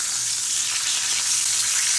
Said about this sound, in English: I'm cooking in some sausages